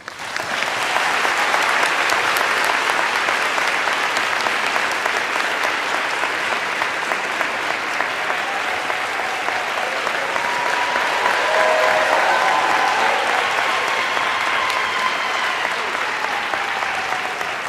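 A large audience at the COP26 climate summit in Glasgow gives sustained, loud applause welcoming President Barack Obama, the clapping dense and steady throughout with a slight swell near the end.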